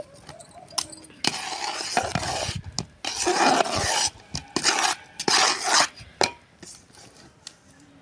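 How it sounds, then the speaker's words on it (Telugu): Rice flour dough for ariselu mixed by hand in a metal vessel, with bursts of rasping, scraping and rubbing alternating with short pauses, close and fairly loud. "కాబట్టి పోసుకుంటా కలుపుతాను పిండిని"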